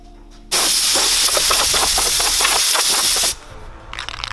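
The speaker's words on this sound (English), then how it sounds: "I'm going to take this outside and I'm going to spray paint it all the same color." Krylon satin spray paint hisses from an aerosol can onto a car dash part outdoors: a single loud, steady burst of about three seconds, then a sharp stop.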